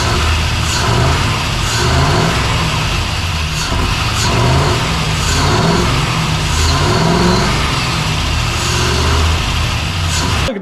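A Chevy Silverado fitted with a budget replacement engine runs loud and close, its revs rising and falling in a rough, continuous roar for the whole stretch, with no one speaking.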